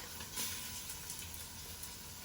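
Meat sautéing in a pot of golden-brown onions for a chili gives a soft, steady sizzle that fills the whole clip with a faint bubbling hiss and no talking.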